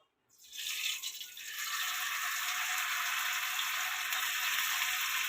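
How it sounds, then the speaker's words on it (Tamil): Marinated anchovies drop into hot oil and set off a loud, continuous sizzle that builds within a second and holds steady, crackling and hissing close up without any talk. "இப்போ நம்ம மிக்ஸ் பண்ணி வச்சுருக்க இந்த நெத்திலியை நம்ம போட்டு ஃப்ரை பண்ணி எடுத்துக்கலாம்."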